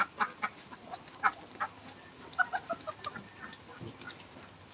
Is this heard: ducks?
yes